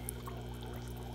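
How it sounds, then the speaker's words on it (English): Water being poured into a fish bucket set on a desk, a faint, soft pour and trickle beneath a constant low hum from a running pump. "so I'll be adding some water"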